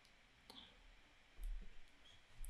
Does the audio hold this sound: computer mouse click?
yes